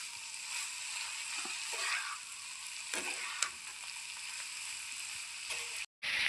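Ridge gourd pieces sautéing in a pan, giving a steady close sizzle with a few soft stirring scrapes and a brief dropout near the end.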